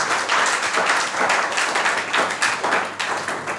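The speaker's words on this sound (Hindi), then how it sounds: "तो सर के लिए जोरदार तालियां हो जाए" Students in a classroom clap together for their teacher, a loud close burst of hand clapping that carries on steadily for a few seconds.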